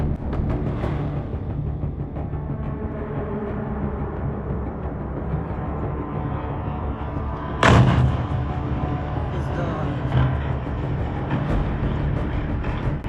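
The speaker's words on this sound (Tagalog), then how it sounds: "Bumaba ito sa ibabaw ng bodega at sumabog." A sudden loud explosion of a drone striking a warehouse bursts out midway through a steady background rumble, followed by a fainter thud a few seconds later.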